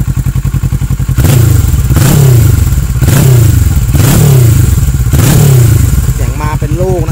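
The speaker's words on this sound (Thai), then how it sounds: "ฟังเสียงท่อผ่ากันนิดนึงดีกว่าครับ" A 2013 Kawasaki ER6N 650 motorcycle with a straight-through exhaust revs loud and close in five punchy bursts about a second apart, each one throbbing and crackling over a heavy idle, and someone speaks briefly near the end.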